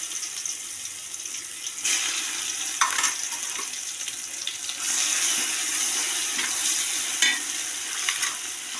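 Garlic paste sizzles and is stirred in hot oil for biryani, a close, steady frying hiss broken by scraping spoon strokes and occasional louder crackles, with no talking.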